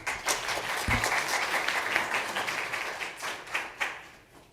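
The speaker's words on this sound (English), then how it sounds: "Let's give Charles another round of applause" Applause from an audience after a presentation at a sustainable water and sanitation side event, dense clapping with individual claps popping out, thinning and tapering off near the end.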